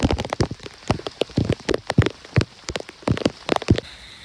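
Heavy rain falls at night during a walk to catch freshwater crabs. Dense, close drops patter and splatter on nearby surfaces in an irregular burst of taps, with no voices.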